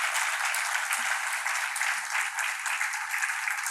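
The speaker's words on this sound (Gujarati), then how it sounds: "સૌ વક્તાઓનું ખૂબ તાળીથી અભિવાદન કરીએ" Listeners at a Gujarati literary remembrance gathering applaud the speakers with a thick, steady roar of clapping from a large crowd, sounding slightly thin and distant, with no voices over it.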